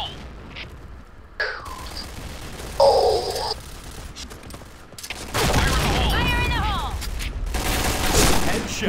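Grenade explosion in the shooter game Point Blank, a loud, full boom that lingers with rumbling debris near the end, following scattered gunfire and effects, with a voice speaking over the start.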